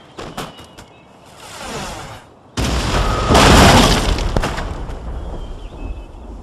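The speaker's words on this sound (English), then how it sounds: "right-click your mouse to order your cannons to attack" Heavy cannon blasts boom in quick succession in Napoleon: Total War, followed by a long rumbling roar of battle noise, loud and near.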